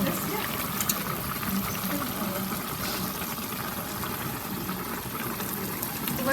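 Liquid released by cabbage cooked with vegetables being drained off, a steady broadband watery rush and gush that runs continuously and fairly loud throughout.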